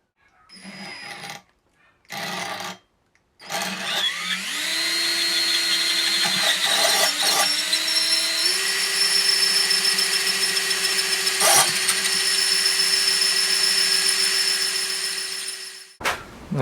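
A drill bores a 1/2 inch hole ready for a 14mm tap on a 1989 BMW XJ cooling fan wiring job, with a few short bursts, then a loud steady whirring drill note lasting about twelve seconds before it stops.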